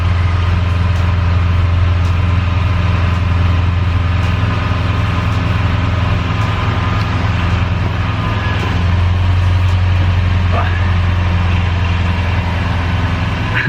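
Engine of a Toyota Crown with an air suspension setup, running steadily at idle as a loud, continuous low hum and drone with no break.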